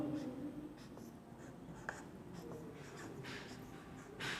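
A pen scratches steadily across a writing surface as a chemistry formula for nitrous acid is written out, a soft continuous scribbling with brief strokes and taps, alone without talk.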